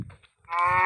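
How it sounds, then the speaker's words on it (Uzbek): A cow in the Minecraft video game gives a short, loud moo after a brief grunting sound, heard alone and close. "Molning o'zini eshitdilaringmi?"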